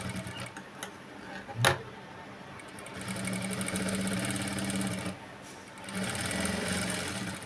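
Sewing machine stitching a blouse, running in two steady bursts of rapid needle ticking and motor hum with a short pause between, preceded by a few soft clicks and a sharp knock, close and clear.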